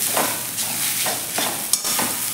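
Grated fresh coconut sautéed in ghee over a low flame, soft rhythmic stirring scrapes repeating about every half second over a gentle sizzle, close and fairly quiet, no voices.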